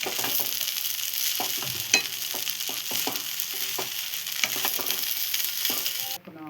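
Fresh coriander being stirred through egg fried rice in a pan, with repeated scraping strokes over a steady sizzle, close and moderately loud, ending abruptly near the close.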